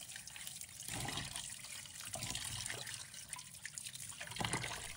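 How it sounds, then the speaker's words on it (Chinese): Tofu fish are rinsed in a basin under running tap water, making a soft continuous splash and trickle with occasional sloshing as the fish are moved, fairly faint, with no talk. "将鱼放入盆中，用流动水把它清洗干净"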